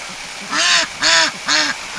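A small female Pekin duck quacks three times close by, each call loud and nasal, with short gaps between them.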